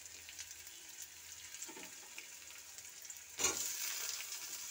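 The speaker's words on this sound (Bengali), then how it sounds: "পেঁয়াজটা হালকা ভাজা হয়ে গেলে আমি এর মধ্যে টমেটো কুচি দিয়ে দেব" Oil sizzles steadily under chopped onions in a pan, then a sharp, louder hiss erupts as chopped tomato goes in, settling into a stronger, sustained frying crackle close by.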